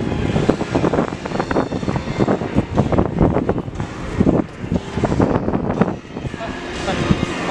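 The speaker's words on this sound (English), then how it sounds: "It's a little bit windy out." Gusty wind buffets the microphone outdoors near Universal Studios Japan in Osaka, a steady low rumble with bursts throughout, while people talk over it.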